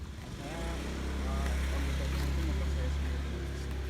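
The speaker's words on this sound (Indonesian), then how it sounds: "Motor saya sendiri ini bermerek dengan Suprafit. Di dalam Suprafit ini memiliki tipe mesinnya itu 4 langkah" A Honda Supra Fit four-stroke motorcycle engine runs at a steady low idle, a close continuous throb, while someone talks over it.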